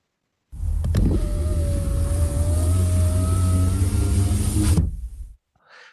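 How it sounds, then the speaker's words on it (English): A car's power window motor whirs steadily for about five seconds as the glass goes down, a clear close electric whine that ends with a soft thunk. "No, it was a car window going down"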